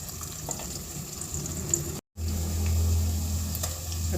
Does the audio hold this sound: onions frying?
yes